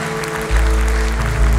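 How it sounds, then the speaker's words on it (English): A church congregation applauds a departing group, the clapping loud and steady over a deep, sustained musical tone that swells about halfway through. "Church, would you applaud them as they go?"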